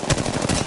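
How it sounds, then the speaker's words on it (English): Rapid automatic gunfire in Apex Legends on PS4, a short close burst of several sharp shots in quick succession with no talk over it. "is there more firing down on us?"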